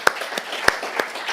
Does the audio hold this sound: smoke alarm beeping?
no